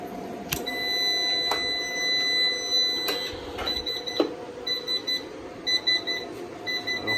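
Battery packs for a solar power setup beeping after their charger is unplugged, a series of thin electronic chirps and short beep bursts repeating over a faint background hiss.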